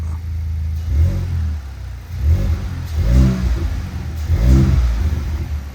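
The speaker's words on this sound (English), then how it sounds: "So I'm gonna go ahead and give it a couple revs and we shouldn't really hear anything." A Volkswagen Mk8 GTI engine with its stock air box is revved several times from idle, a low, muffled rise and fall in pitch with each blip and only light intake noise, near and steady, with no talk.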